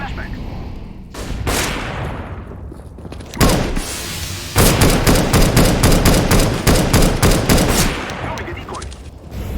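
Counter-Strike: Global Offensive match with a flashbang grenade going off amid heavy gunfire, a sharp burst followed by rapid rhythmic shots, loud and close, with speech over it.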